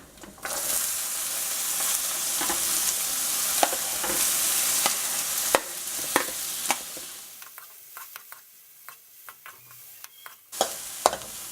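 Minced garlic and onions stir-fry in a pan with a loud steady sizzle, while repeated spatula scrapes and knocks come through up close before the hiss drops away near the end.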